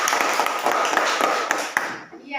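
Classroom applause for a student during a lesson, a dense burst of many hands clapping close by, fading out at the end.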